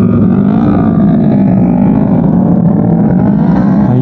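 At a charity ride in Porac, Pampanga, motorcycles and four-wheel vehicles pull away together in a loud, close, continuous engine drone.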